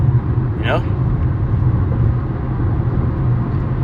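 A car driving along a road in Florida, with a steady low engine and tyre rumble filling the whole stretch, heard from inside the cabin, and a brief rising chirp near the start.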